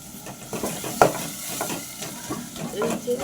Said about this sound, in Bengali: এবার আমি পেঁয়াজগুলো দিয়ে দেবো, আর পেঁয়াজগুলো হালকা করে লাল লাল ভেজে নেব।